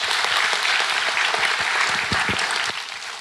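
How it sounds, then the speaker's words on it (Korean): An audience at a talk show applauds a student, a thick, even wash of many hands clapping at moderate distance that holds steady and eases slightly near the end. "우리 민주 학생한테 박수 한번 주시죠"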